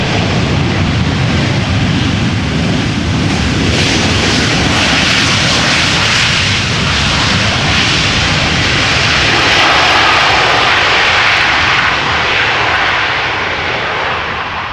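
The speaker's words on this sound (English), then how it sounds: "You don't very often hear them using the reverser so loudly" Small airplane landing at Amsterdam Schiphol Airport in crosswind, its thrust reverser roaring loudly as a broad, sustained rush that swells and then slowly eases over several seconds, close and alone.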